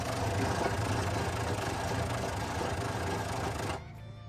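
Engine of an abandoned Chevrolet C60 truck, a barn find sitting for 35 years, cranks over steadily without firing, a loud continuous mechanical churn that cuts off abruptly near the end.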